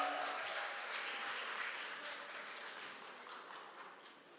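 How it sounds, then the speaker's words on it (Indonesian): Audience applause for a youth group at a church Christmas service, faint, distant clapping that fades gradually, with a few voices underneath. "Tepuk tangan dong untuk Naposo HKBP Sutoyo."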